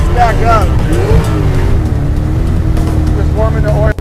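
A car engine idles steadily to warm its oil, a loud, continuous low rumble throughout, with people talking over it.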